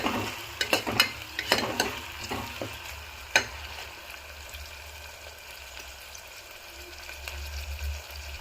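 Onions and tomatoes frying in a pan for mutton curry, with a soft steady sizzle and a few scraping stirs near the start, fairly quiet and without talk.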